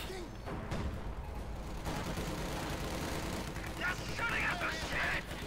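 Rattling bursts of rifle and machine-gun fire from a Company of Heroes 2 skirmish between Soviet and German forces crackle steadily in the distance, layered under a commentator's voice.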